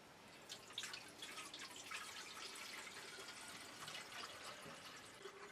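Water gurgling inside a Harbor Freight shallow well pump during priming, a faint, continuous bubbling trickle with small drips and splashes, close and quiet, with no talk.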